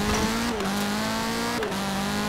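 Engine note of a loud car drifting in Forza Horizon 4, a steady high rev with two brief dips as it shifts or slides, close and continuous with no talk.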